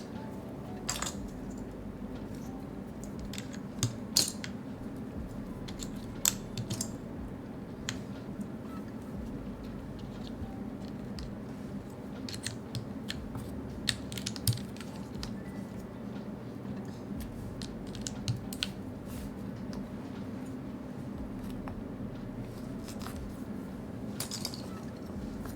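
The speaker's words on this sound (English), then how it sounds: "Putting on the keycaps is the hardest part." Sparse plastic clicks and light taps as keycaps are pressed onto a DK1-TKL mechanical keyboard fitted with modded Gateron Sage switches, scattered irregularly over a steady low room hum, fairly quiet and close.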